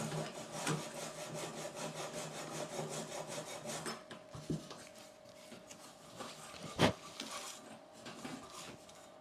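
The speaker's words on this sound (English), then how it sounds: "take off these burrs" Deburring tool scraping burrs off aluminium parts of a Sling TSi aircraft horizontal stabiliser, a repeated close rasping stroke rhythm with a few sharp clicks.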